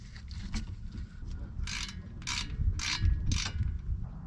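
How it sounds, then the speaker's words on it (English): Brake work on a 2005 Lexus RX330 as the caliper goes back on: a series of four or five short metallic ratcheting bursts from a hand tool, close and distinct over low background rumble. "now we put in the caliper back on"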